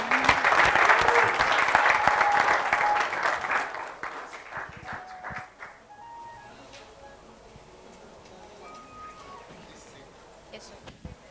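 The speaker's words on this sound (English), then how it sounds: "Please keep clapping for him." An audience claps for a secondary school student who built a drone from scratch, loud dense applause for about four seconds that quickly fades to scattered claps, with light voices and room murmur underneath.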